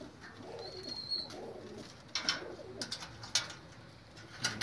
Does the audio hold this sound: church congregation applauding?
no